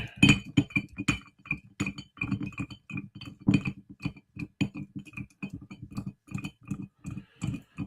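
A spoon stirring steadily inside a glass, giving a quick, rhythmic run of bright clinks and taps that continues without pause and with no talking.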